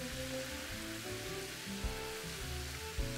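Chicken wings sizzle in hot barbecue sauce with a soft, steady crackling hiss, faint and continuous, with background music playing underneath and a couple of small pops.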